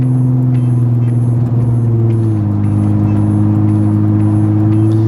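An Infiniti G35 accelerates onto a freeway, its engine a loud, steady low drone with a shift in pitch partway through as the car gains speed, heard close from inside the cabin.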